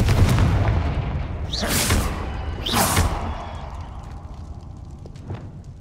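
A Confringo spell blast in Hogwarts Legacy lands as two booming explosive bursts about a second apart, each with a bright crackling whoosh, over low rumbling game ambience.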